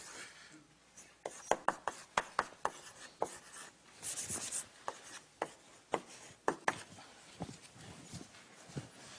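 Chalk taps and scrapes out a plot on a classroom board in a lecture on nonlinear circuit analysis, a run of sharp, close clicks and strokes in an irregular rhythm with quiet room tone between.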